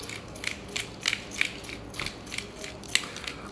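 A pepper grinder cranks mixed peppercorns over swordfish steaks, giving a close, dry crunching and ratcheting in short irregular bursts.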